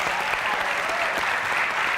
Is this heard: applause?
yes